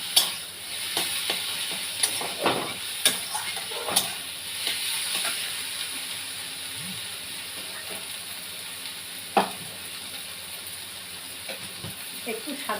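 Greens and eggplant frying in a pan, a soft steady hiss with scattered clicks and scrapes of stirring, a few louder knocks early and one near the end.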